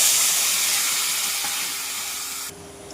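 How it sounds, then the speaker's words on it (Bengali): Water poured into a hot frying pan for a thin fish curry with bitter gourd and koi fish, giving a loud broadband sizzling hiss that fades gradually and then drops sharply near the end. "এবার জল দিয়ে দেবো।"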